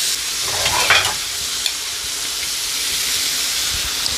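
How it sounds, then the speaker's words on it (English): Steady crackling sizzle of fish pieces searing in hot oil for Bahamian stew fish, continuous and close, with a brief louder burst of spatter near the start. "we're frying this just enough to sear it"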